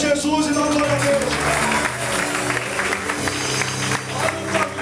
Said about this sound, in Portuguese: Aplauda Jesus e dá glória a Deus.